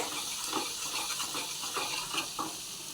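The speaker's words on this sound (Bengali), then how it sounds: "হলুদ গুঁড়ো দিয়ে ভালো করে নেড়ে নিয়ে" Turmeric powder is stirred into food frying in a pan, producing a continuous soft sizzle with a few rhythmic scraping strokes of the spoon.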